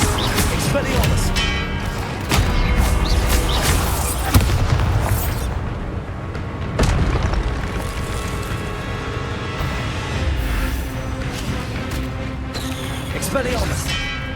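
Expelliarmus spell blasts and other spell impacts boom repeatedly in Hogwarts Legacy combat inside the Map Chamber, sharp bursts over dense game music and effects, with a voice shouting spell names throughout.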